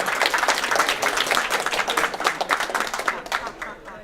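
Charity gala audience clapping after an auction lot, a lively, rhythmic burst of many hands close by that swells and then tapers off toward the end.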